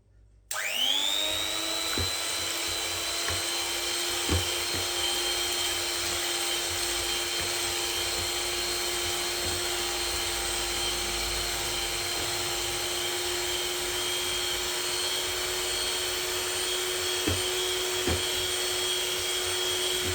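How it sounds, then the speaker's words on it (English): An electric mixer starts up and whisks egg whites on medium speed, a steady, high motor whine that holds evenly throughout, with faint occasional taps of the beaters against the bowl. "Now let's whisk these egg whites up. Start on medium speed."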